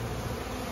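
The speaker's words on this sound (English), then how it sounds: "There are quite a few more bees in the tote." Honeybees buzzing around a tree limb during a trap-out, a brief steady close hum of many bees with no other sound.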